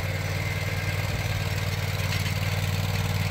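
A Vermeer SPX25 remote-control burying machine with a 25-horsepower engine runs steadily in Bethel, Maine, its engine chugging in an even, pulsing rhythm at close range.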